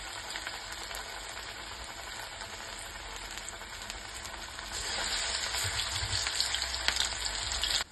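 Kadalebele vade, lentil fritters, fry in hot oil over a medium flame, with a steady dense sizzle that grows a little louder and busier partway through, close and continuous with no voices.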